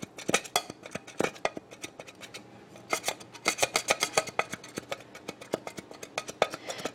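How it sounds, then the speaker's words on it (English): A kitchen scraper rasps residue off a glass surface after a Goo Gone cleaning, giving a dense series of quick, close scraping strokes that run throughout with brief pauses and no talking. "And then I'm going to take my scraper, and I'm just going to scrape it off."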